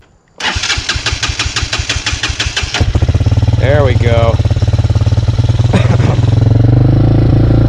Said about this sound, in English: She had just drawn water into the motor through the exhaust, yet the bike started completely fine.